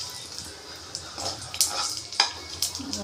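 Spices splutter and crackle in hot oil for a kurma, a soft sizzle broken by scattered sharp pops and a few stirring scrapes, fairly close.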